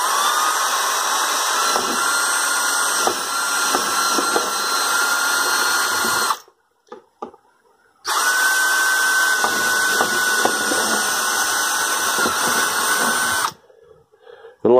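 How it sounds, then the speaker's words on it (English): A power drill bores drainage holes in stacked plastic buckets for growing potatoes. It gives a loud, steady, high whine that runs for several seconds, cuts out briefly, then resumes before stopping again. "Let the drill do the work, don't force it."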